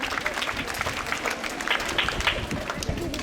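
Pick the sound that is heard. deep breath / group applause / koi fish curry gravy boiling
group applause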